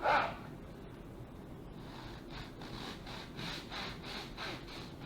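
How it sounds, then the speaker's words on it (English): A knife saws through a loaf of homemade all-purpose-flour bread still warm from baking, starting with a crackle of crust, then repeated soft back-and-forth sawing strokes, close and moderately quiet. "So let's cut a slice here."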